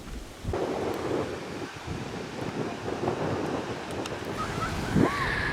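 Ocean surf on a beach in Tongatapu, Tonga, a continuous rushing wash of waves mixed with wind buffeting the microphone, moderately loud and steady throughout.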